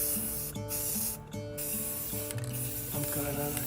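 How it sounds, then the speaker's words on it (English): Brass-colored spray paint hisses from an aerosol can in short bursts. Between the sprays, tonal background music plays steadily. "I'm using some brass colored spray paint as the first layer"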